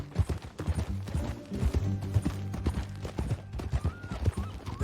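A horse's hooves clip-clop in a steady irregular rhythm during riding in Red Dead Redemption 2, close and distinct, with a brief whinny and low game ambience beneath.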